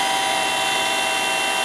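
A $37 Harbor Freight DC water pump runs in a carpet-cleaning truck rig, giving a steady, close electric whine with a bright, continuous tonal hum and no pauses.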